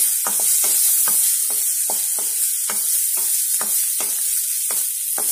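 Ginger and garlic sauté in a hot pan for a veg kheema dosa, a constant bright sizzle overlaid by regular scraping stirs about twice a second, close and loud, with no one speaking.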